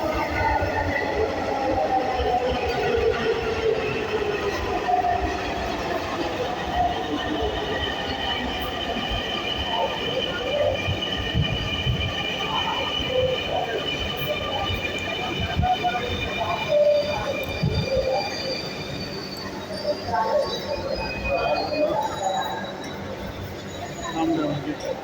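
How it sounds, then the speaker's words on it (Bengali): A Dhaka metro rail train pulls into the station, its steady rumble and high whining tones rising and shifting throughout, with faint wheel squeal and clatter under a continuous loud hum, while people speak nearby. "এই যে আমাদের মাঝে আবারও হাজির মেট্রো রেল চলে এসেছে।"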